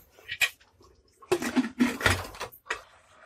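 Metal clanks and scrapes close by as a lid is set onto a pressure cooker of mutton trotters, a few short knocks followed by a final clink.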